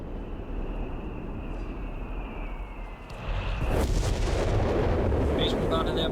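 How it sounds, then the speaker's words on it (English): A howitzer bombards an enemy base in Company of Heroes 3: distant rumbling battle noise gives way to a heavy, sustained crash of shelling that surges loudly at the midpoint and keeps rolling to the end. "Base bombarded there by the howitzer."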